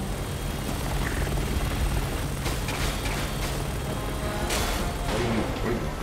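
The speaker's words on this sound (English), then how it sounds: "Helicopter, helicopter." Helicopter in the video game Resident Evil 6 thrumming loudly and steadily close by, its rotor drone constant throughout, with a few sharp bursts of gunfire or impacts cutting through partway.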